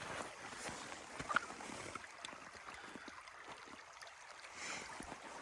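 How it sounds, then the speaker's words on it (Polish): Small mountain stream flowing, a steady close watery rush with soft babbling and light splashes, continuous and fairly quiet throughout with no talking. "Mamy też tutaj taki strumyczek."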